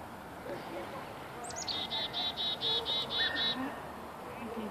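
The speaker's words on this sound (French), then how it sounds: "Ah, il y a une mésange." A tit calls outdoors at a canicross event site: a quick series of about eight bright, evenly spaced high chirps, fairly near, over a low steady background hum.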